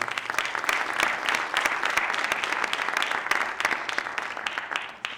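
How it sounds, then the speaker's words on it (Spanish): Audience applause at a homage event for Santiago Ramón y Cajal at the Museo Cajal, a steady dense clapping from many hands filling the room for about five seconds before tapering at the end. "Un aplauso para ella, por favor."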